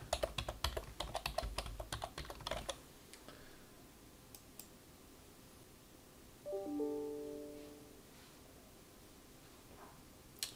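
Quick, close keyboard typing for a few seconds as a username and password are entered on a computer, then quiet with a short electronic tone, with no talk.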